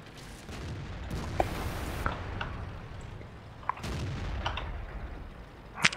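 Tank cannon shots ring out in a tank video game, several loud booming blasts with reverberant tails spread across the stretch, mixed with clanks and battle noise, no talk.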